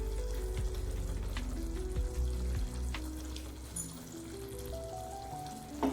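Tamarind rice paste bubbles and fries in oil for puliyodharai, a close, continuous sizzle with soft stirring scrapes and a few light clinks, no voices.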